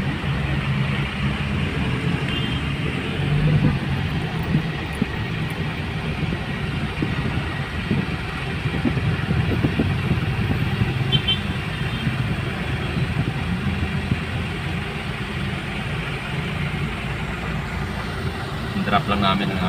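Dense city traffic in Quezon City, heard from inside a vintage Ford Focus: a steady low rumble of idling and creeping engines with continuous road noise, people talking over it throughout.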